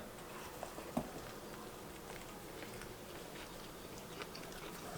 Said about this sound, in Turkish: Yine böyle büyük bir lokma alarak başlayalım değil mi?